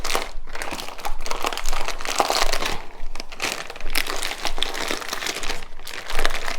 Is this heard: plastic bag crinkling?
yes